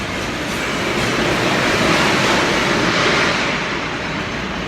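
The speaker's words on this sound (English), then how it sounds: "You heard that noise of basically all the steel that was there in this bucket to be emptied out." Steel scrap emptied from a bucket into a BOF converter at the Jindal steel plant in Angul: a loud, continuous, dense roaring rumble that holds steady for several seconds without a break.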